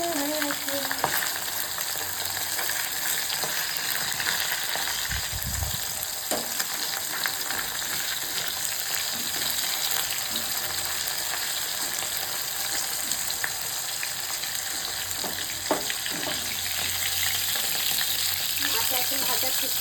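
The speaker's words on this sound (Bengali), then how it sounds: "আগে দেখে দেবো মাছটা ভাজা করে।" Pabda and amudi fish fry in hot oil in an Indian home kitchen, giving a steady, close sizzle that runs the whole time with small pops and stirring clatter, and no one speaks.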